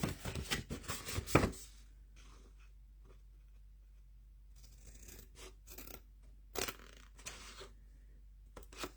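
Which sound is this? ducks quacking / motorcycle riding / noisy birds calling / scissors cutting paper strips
scissors cutting paper strips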